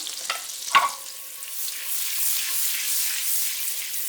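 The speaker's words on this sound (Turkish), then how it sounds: "eriyen tereyağımın üzerine yarım çay kaşığı pul biber, yarım çay kaşığı da toz biber ekliyorum" Chili flakes and paprika sizzle in melted butter, a soft steady frying hiss after a couple of brief clinks, close and alone.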